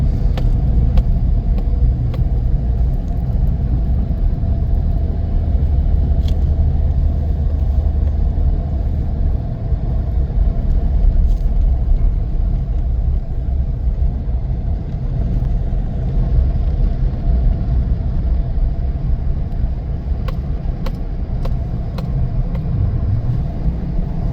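A car climbs a hill on a snowy road during a snowstorm with bitter wind, its engine a steady low rumble mixed with road and wind noise that holds constant and close throughout, with no talking.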